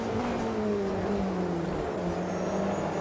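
GT3 race car in the Le Mans Ultimate sim racing game working through a chicane, a loud continuous engine drone with pitch dipping and rising as it brakes and accelerates, close and alone without talk.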